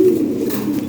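Lahori Siraji pigeons at a pigeon sale give a short, close, loud coo.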